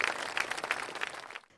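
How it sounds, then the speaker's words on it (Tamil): An audience at a stage performance contest bursts into brisk, dense applause that lasts just over a second before cutting off abruptly. "ஒரு பெரிய கைத்தட்டல் கொடுக்கணும்."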